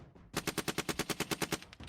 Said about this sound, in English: More gunfire from 3 o'clock.